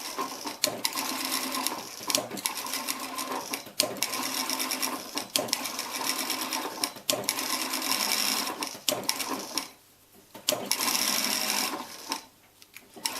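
A sewing machine runs in steady, fast bursts while stitching a pillow cover, its mechanical whir rising and stopping briefly around the tenth and twelfth seconds before resuming.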